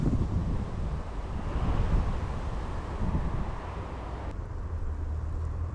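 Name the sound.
strong wind by a small river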